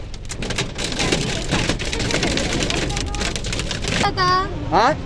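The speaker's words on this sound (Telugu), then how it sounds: "వడగల్ వర్షం అయితే పడుతుంది ఫుల్గా ఐస్ ముక్కలు అయితే పడుతున్నాయి" Dense rattling patter of hailstones striking a car, loud and continuous, with voices talking over it and a brief whistling tone near the end.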